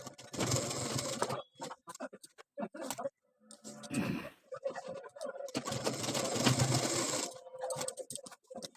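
A sewing machine stitches a blouse back neck design, its mechanical whirring coming in several bursts separated by short pauses and mixed with handling noise.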